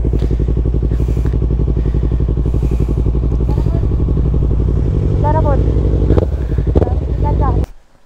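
Yamaha MT-03 motorcycle engine while riding, a loud close steady low rumble from onboard, with voices talking over it and a wind-buffeted thump before it cuts off.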